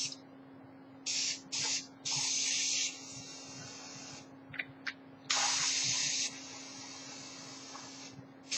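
Short bursts of spray paint hiss from an aerosol can onto a computer case, several quick squirts then longer sprays, close and loud over a steady electrical hum.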